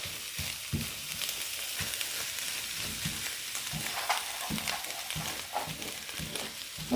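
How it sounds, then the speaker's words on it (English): Eggs sizzle and fry in a pan of sausage and spinach, a soft continuous crackle broken by light scraping and stirring taps, close and fairly quiet, with no talking. "So I just crack my eggs directly into the sausage and spinach mixture."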